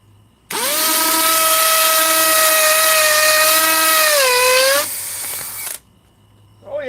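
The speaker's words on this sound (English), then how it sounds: "she's fast in hammer mode for drilling" A hammer drill running in hammer mode, one loud, steady, close whine lasting about four seconds with a rapid buzzing hammer texture, dipping slightly in pitch before stopping, then a short trailing rattle.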